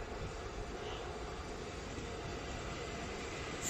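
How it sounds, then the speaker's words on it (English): A Southern Class 377 electric train to London Victoria arrives at Sydenham station, a steady, fairly quiet broadband rumble that holds even throughout. "We have another train coming in. And it's the Southern service to London Victoria"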